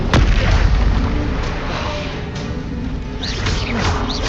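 Bombarda, the explosion spell in Hogwarts Legacy, goes off as a loud, dense blast with rumbling debris that stays thick and forceful throughout, then settles into crackling bursts.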